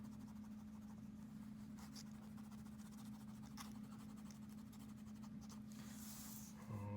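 Colored pencil scratches steadily across paper, blending strokes in one direction to finish a color wheel, a soft continuous scraping close by with a steady low hum underneath.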